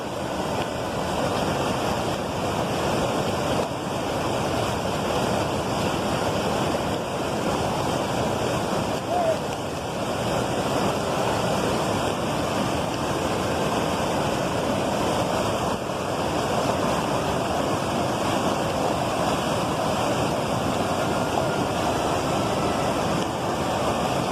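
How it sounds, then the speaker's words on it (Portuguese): A waterfall's rushing water roars loudly and steadily as a couple wades across it on foot, a dense unbroken wash of noise that never lets up from start to finish. "Estão aqui atravessando aqui a cachoeira aqui."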